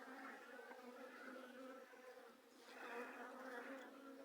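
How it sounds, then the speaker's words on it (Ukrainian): A dense, droning hum of many Buckfast honey bees buzzing close by at the hive, swelling and easing slightly, with no voices. "Бджоли виходять."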